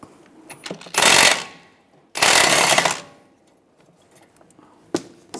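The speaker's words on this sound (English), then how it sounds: "Using a 22mm socket, take this nut off." A 22mm socket on a power tool rattles a nut off the outer tie rod of a 2006-2009 Mercedes-Benz E350 in two loud bursts of about a second each, with small clicks of metal in between and a brief knock at the end.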